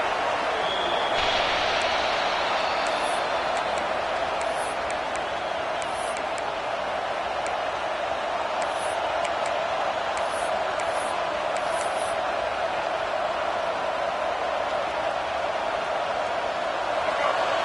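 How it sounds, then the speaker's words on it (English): A stadium crowd in a college football video game roars as one steady, dense wash of noise, continuous and loud, with a few faint high clicks scattered over it. "Decibels rising as the crowd gets behind this defense on third down."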